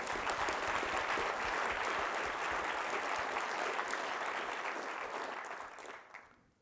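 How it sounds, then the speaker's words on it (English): Sustained applause from a conference audience for the organising teams at a natural capital keynote, a dense even wash of clapping held steady before fading out at the end. "a round of applause to the Mallow Street team and the Rebalance Earth team."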